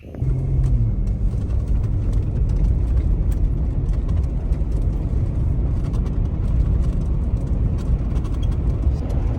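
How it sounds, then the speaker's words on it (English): A vehicle drives through the desert near Sawtooth Canyon, California, its engine and road rumble holding a loud, constant drone from start to finish with no voices. "So here I am driving through the desert"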